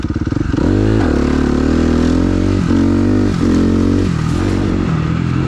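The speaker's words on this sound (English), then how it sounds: "Locked the rear brake, it is sliding the rear wheel, the motor did not stall." A motorcycle with a Rekluse clutch skids with its rear brake locked at speed in about fourth gear, the engine staying loud and running with shifting pitch, a rough scraping clatter under it and no voices.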